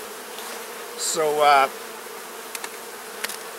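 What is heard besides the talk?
bees buzzing in a beehive during inspection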